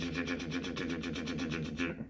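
A voice imitates a heavily distorted guitar riff, as if from a Jackson guitar through Marshall amplifiers, chugging in a fast, even rhythm of repeated gritty pulses for about two seconds.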